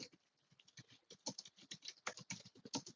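Rapid, irregular clicking of fingers typing on a computer keyboard, close and fairly quiet, with bursts of keystrokes accelerating after a softer start and no voices.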